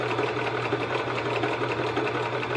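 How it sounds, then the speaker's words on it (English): Sewing machine stitching a strap onto a reusable grocery bag, a steady close whir with rapid needle rhythm running unbroken throughout. "we'll sew it onto the bag and see what happens"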